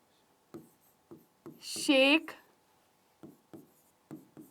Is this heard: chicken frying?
no